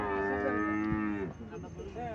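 A 10-12 day old Sahiwal bull calf at a village cattle market moos in one long, loud, drawn-out call that bends downward at the end, close by, followed by quieter market background.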